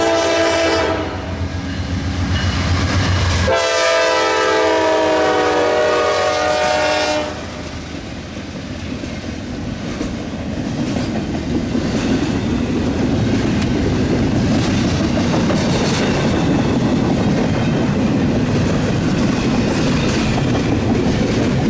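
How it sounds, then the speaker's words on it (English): A short Norfolk Southern intermodal freight train of about 33 cars carrying piggyback trailers passes close by on a rainy day in Ohio, opening with a loud horn blast followed by the steady rumble and clatter of cars rolling past. "Norfolk Southern, it's an intermodal train."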